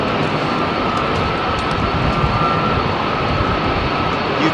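A Rolls-Royce Trent 900 powered airliner takes off from runway 27R at London Heathrow with a loud, continuous engine roar that holds steady the whole time.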